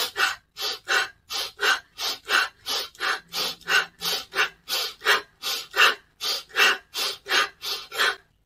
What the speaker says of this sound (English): And then we're going to go back to a quicker, shorter breath.